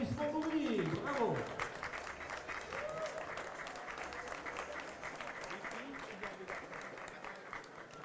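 A crowd applauds steadily with a dense patter of clapping while a voice talks over it, at a running race awards ceremony.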